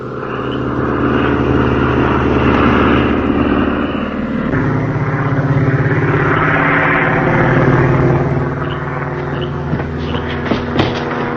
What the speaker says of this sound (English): There's one of our planes making a landing now.